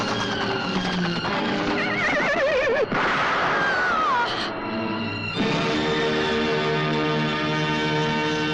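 A horse neighs loudly in a 1982 Hindi film scene, its wavering whinnies rising and falling amid clattering action sounds and ringing tones, followed by a steady background drone.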